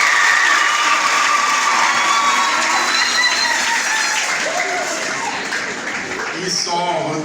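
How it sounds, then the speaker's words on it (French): A congregation at a World Youth Day Mass applauds to welcome young people, a dense, steady wash of many hands clapping in a large reverberant space, fading slightly toward the end. "nous allons les applaudir pour leur souhaiter la bienvenue"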